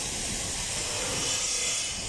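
Lapping paste being worked on a main engine fuel valve pipe of a slide-type fuel valve, giving a steady, close gritty rubbing that continues without pause, with no talking.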